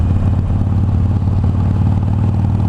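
A Harley-Davidson Iron 883 motorcycle cruising on the road, its engine a loud, steady, low, rumbling throb with a slightly clattering texture, heard close up throughout.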